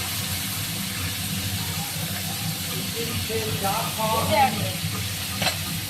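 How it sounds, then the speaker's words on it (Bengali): Hilsa fish heads fry lightly in hot oil, a steady close hiss and sizzle running throughout with a few brief higher clinks and scrapes near the end; a voice talks faintly in the background. "মাথাগুলো তেলে দিয়ে ভেজে নিচ্ছি, হালকা করে ভাজবো, খুব বেশি ভাজবো না"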